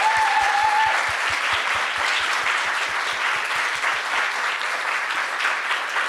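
Sustained applause from a panel audience fills the room, dense and steady clapping from many hands, loud and close, with no talk over it.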